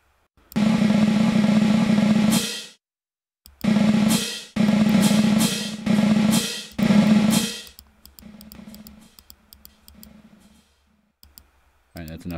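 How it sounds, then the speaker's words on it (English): A long drum roll sound effect played repeatedly in several sustained bursts of a few seconds each, loud and close, with brief gaps between them, fading into a quieter noisy tail near the end. "It's a long drum roll."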